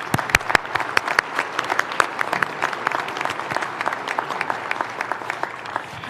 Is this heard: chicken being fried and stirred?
no